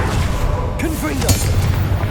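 A Confringo fire spell blasts in the Hogwarts Legacy video game, a booming impact amid a noisy battle mix with a voice calling out and scattered crackling hits.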